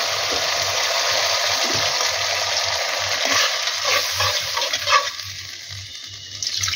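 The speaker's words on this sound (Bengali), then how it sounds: "মাছগুলো দেবো তো এবার একটু অল্প করে জল দিয়ে দেবো" Water poured into a pan of mustard-poppy parshe fish gravy, a steady broadband gush and sizzle that holds for several seconds, then eases as the pouring ends.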